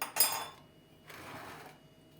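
A spoon scrapes and clinks against a bowl while stirring chicken marinade with crushed garlic, first in a short sharp burst, then a softer, longer stretch of mixing, close and alone.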